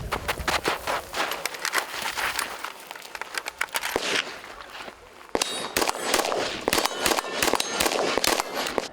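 Special forces shooters fire at targets on a shooting range, a rapid run of sharp cracking shots in uneven bursts, some close and loud, others slightly farther, with a steady outdoor background.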